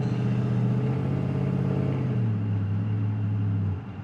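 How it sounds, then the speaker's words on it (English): A second-generation Dodge Ram truck engine hums in a low, steady drone that drops in pitch partway through as it shifts gears, then fades at the end, heard from inside the cab without talking. "There it is. Shifting through the gears."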